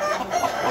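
Native Vietnamese chickens from the Mekong Delta cluck and a rooster calls, a short, close burst of fowl sounds with no talk.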